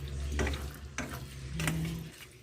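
Chicken afritada with potatoes and carrots is stirred in a pan, giving a few soft scraping strokes over a steady low simmer, close and fairly quiet.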